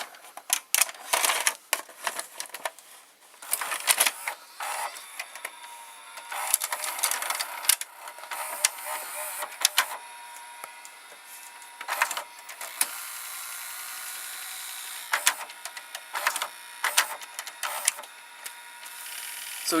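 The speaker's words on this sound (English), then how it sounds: "As you can hear, these Sanyos have a noisy mechanism." The noisy tape mechanism of a Sanyo VCR clicks and whirs close by while it ejects, giving irregular mechanical clatter and ratcheting bursts with a faint motor hum between them. Nobody speaks.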